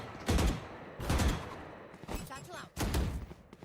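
Gunfire bursts in the tactical shooter Valorant, three or four loud clustered volleys with sharp impacts, spaced about a second apart, amid game ambience and faint voices.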